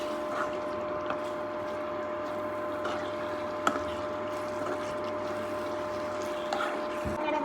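Water with limes in it bubbling at a low, steady simmer in a pot for lime pickle, with a faint constant hum and an occasional small clink.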